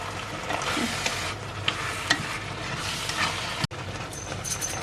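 Glass noodles with egg stir-fry in a pan, giving a steady close sizzle with scraping stir strokes and a sharp clack near the end.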